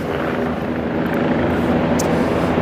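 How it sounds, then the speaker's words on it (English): Helicopters at a New York City heliport produce a loud, continuous rotor and engine roar that fills the whole stretch, dense and close, with no talking. "So we got various helicopters here."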